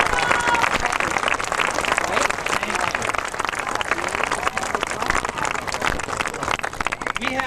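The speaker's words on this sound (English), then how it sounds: "I want to give you a round of applause." An audience at a high school graduation ceremony applauds in a steady, dense wash of clapping that lasts throughout, with a voice briefly audible underneath.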